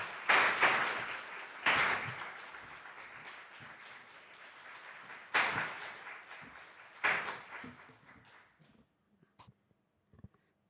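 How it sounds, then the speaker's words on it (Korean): Congregation applause in a church service, coming in a few bursts of clapping that swell and fade before trailing off into near silence with a few isolated claps. "다 같이 뜨거운 박수로 사모님 환영하도록 하겠습니다"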